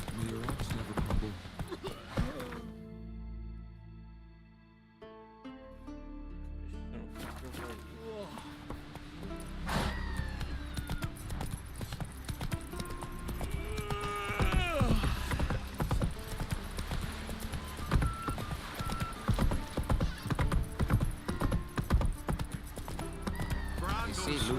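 Roach the horse in The Witcher 3 Next Gen trots along, hooves clip-clopping in a steady rhythm beneath ongoing spoken dialogue, with a brief horse whinny in the mix.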